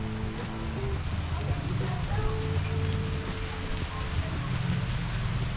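Steady rain falls in Bourg-Saint-Andéol while someone shelters under a bridge, a dense, even hiss of drops with a faint low hum underneath, close and unbroken.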